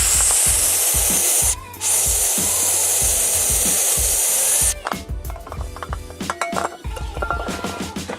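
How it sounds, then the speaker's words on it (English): A loud, steady hiss of aerosol spray runs for several seconds, broken by one brief pause, then gives way to scraping and clinking metal parts. "Might as well spray that with some brake cleaner too."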